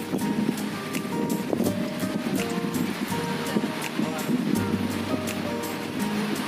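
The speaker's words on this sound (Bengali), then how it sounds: "ঢেউ তো দারুণ আছে, দেখতে" Sea waves break on the beach at Udaipur near Digha, a continuous rolling surf wash mixed with gusty wind buffeting the microphone, loud and close throughout.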